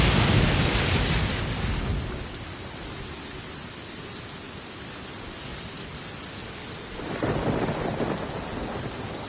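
Rain and thunder in the video game Genshin Impact: a steady hiss of rainfall, with loud, close rolling rumbles of thunder at the start and again near the end.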